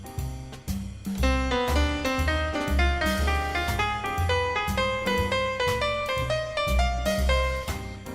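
A jazz phrase encircling chord tones, a melodic line of quick stepwise notes weaving over bass and chords in a steady pulse, clear and close, purely instrumental.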